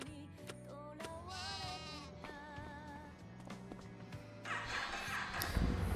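Sheep on a farm in a video game bleat in repeated wavering calls over a quiet, layered background, several voices overlapping and fairly close, with a louder burst of noise near the end.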